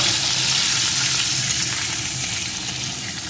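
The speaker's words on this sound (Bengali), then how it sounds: "এখন এর ভিতরে দিয়ে দেবো একটা টুকরো করে কেটে রাখা আলু। আলুটাকে একটু ভেজে নেব।" Potato pieces fry in hot oil with tempering spices, giving a loud, continuous dense sizzle that holds steady throughout without any talking.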